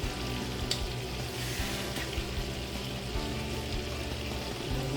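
Steak or shrimp in a pan for a Cajun shrimp sauce dish, a steady close sizzle and frying hiss with no talking.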